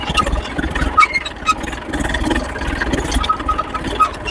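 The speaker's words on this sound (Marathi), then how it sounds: "तो अशा पद्धतीने चालू झालेला आहे आपलं ट्रॅक्टर." A farm tractor's engine runs nearby in a steady idling rumble with a faint rattling pulse, continuing alone without talk.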